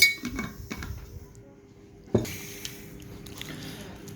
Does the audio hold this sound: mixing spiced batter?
yes